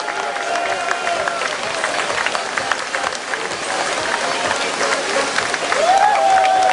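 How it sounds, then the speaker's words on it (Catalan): A crowd at an outdoor freestyle kayak competition in Sort, Spain, applauds the women's K1 winner, continuous clapping and cheering from many people, with whistles and a commentator's voice over the top. "Un fort aplaudiment."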